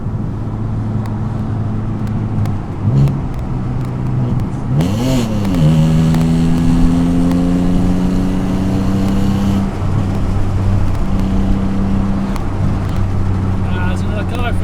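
An Alfa Romeo 147 GTA with a Busso V6 engine revs up and pulls hard, pitch rising through the gears, with a steady interior rumble throughout.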